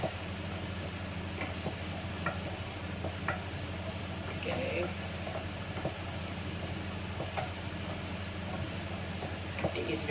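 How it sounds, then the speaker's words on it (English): Onion and garlic sauté in a pan on moderate heat with a steady, close sizzle and hiss, broken by occasional scraping and stirring clicks, with no gaps. "when you saute onion and garlic, make sure it's pan not too hot"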